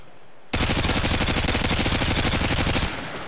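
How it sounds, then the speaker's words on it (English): Sustained Gatling gun fire in Call of Duty: Modern Warfare 2, a loud, dense, unbroken mechanical roar of rapid shots that starts abruptly and runs for over two seconds before cutting off. "Right there I see flash fire coming from the Gatling gun over there, and take that individual out without even seeing them."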